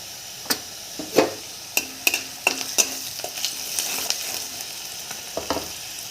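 Onion fried in a pan with chili powder for a green brinjal bharit, a steady sizzle broken by sharp scraping stirs and taps of the spatula, close and fairly loud with no talk.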